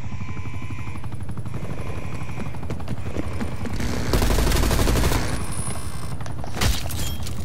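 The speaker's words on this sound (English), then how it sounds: "And my attack helicopter is doing a lot of damage" Attack helicopter in the Call of Duty Cold War game, a steady loud rotor drone with rapid bursts of gunfire and booms layered over it, a heavy volley peaking midway and a sharp blast near the end.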